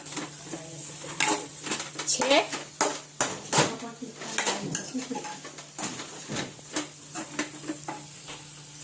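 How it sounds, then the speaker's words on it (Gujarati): Mother tempering vegetables in a pan at home, clinking metal utensils and a spoon scraping the pan over a soft sizzle, with a voice speaking throughout. "મમ્મી વઘારે છે શાક"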